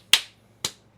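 Two sharp, bright hand claps about half a second apart, close and fairly loud, each ringing out briefly against a quiet room with a low hum, during a group prayer on a talk show.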